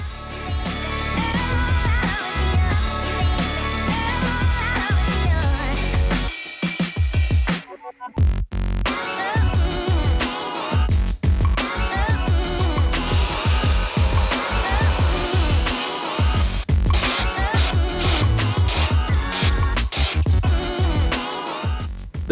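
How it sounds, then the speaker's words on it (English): Handsaw cutting a notch into a wooden board for a driveway deck: steady, loud back-and-forth rasping strokes close by, pausing briefly near the middle before resuming in a continuous rhythm. "I cut the notch out with the handsaw."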